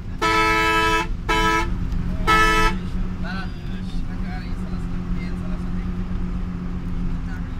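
Three loud vehicle horn honks in quick succession, the last one longest, followed by steady traffic and engine rumble, with a CNG auto-rickshaw nearby on a winding hill road in Rangamati.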